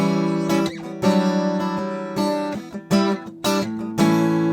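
Guitar chords strummed in a rhythmic pattern, bright full strokes with brief pauses and shifting chord changes, played close and alone.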